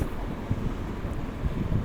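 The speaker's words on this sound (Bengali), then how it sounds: "বাইক রাইডিং হচ্ছে।" Motorbike riding along a village road past paddy fields on a hot, very windy day: steady wind buffeting roars over a low engine rumble throughout, with no talking.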